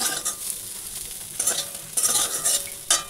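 Spices stirred and fried in a pan of oil for a paneer curry, a steady close sizzle broken by scraping spoon strokes in bursts, no voices.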